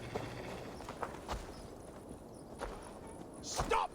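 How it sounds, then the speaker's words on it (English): Horse hooves clip-clop at a walking pace in Assassin's Creed Valhalla, a few distinct thuds standing out over a steady bed of game ambience and background voices. "Stop that horse!"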